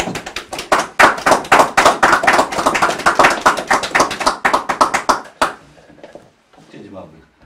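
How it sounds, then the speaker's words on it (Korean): Audience applause welcoming a guest lecturer at a Korean history lecture, a burst of dense, loud clapping for about five seconds that stops abruptly, followed by faint room noise and murmuring. "모두 열정적인 박수로 환영해 주시기 바랍니다"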